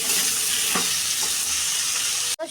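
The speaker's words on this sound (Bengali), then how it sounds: "মিষ্টি কুমড়োগুলো ভাজা হয়ে গেছে, এবার ওর মধ্যে বেগুনগুলো" Pumpkin pieces fry in a wok with a steady, loud sizzle and faint crackle, a couple of soft stirring scrapes, and the sound cutting off abruptly near the end.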